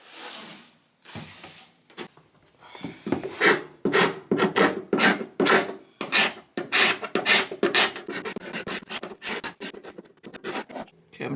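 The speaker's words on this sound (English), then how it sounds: "I might just kind of finish off this section with the hand scraper." A hand scraper scraping a wood floor in a quick run of rhythmic rasping strokes, close and loud, each stroke a short gritty burst after a few slower opening scrapes.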